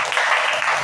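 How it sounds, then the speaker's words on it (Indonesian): A crowd at a product presentation event breaks into applause, a brief, loud, dense wash of clapping. "kita beri aplaus yang meriah untuk Bapak Abdiansa"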